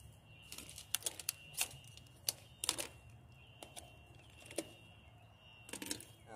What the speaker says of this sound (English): I'm gonna cut this cord here.